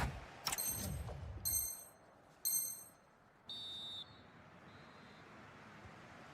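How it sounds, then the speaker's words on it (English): Referee's whistle in an eFootball soccer video game, several sharp high-pitched blasts in a row with short gaps between them, the last one a longer and steadier tone, over quiet background. "So the referee's whistle"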